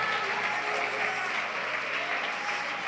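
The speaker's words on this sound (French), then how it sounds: "Est-ce qu'on peut applaudir le Seigneur Jésus ce soir, ce matin?" A church congregation applauds during a French-language Christian service in Paris, a dense, steady wash of clapping from many hands that holds evenly throughout, fairly distant and moderate in level.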